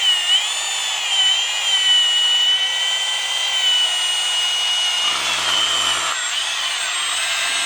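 A power drill whines steadily and loudly, running continuously as it spins a trailer jack's threads, with a brief change in pitch partway through before the drone resumes.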